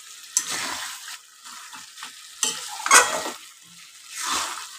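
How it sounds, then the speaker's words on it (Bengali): Chicken for a tiffin-carrier railway-style dish frying in oil, with repeated stirring scrapes and sizzling bursts at close range, no talk over it. "দেখুন তেল বেরোতে শুরু করেছে, এবার আঁচটাকে একটু কমিয়ে ধিমে তালে করব।"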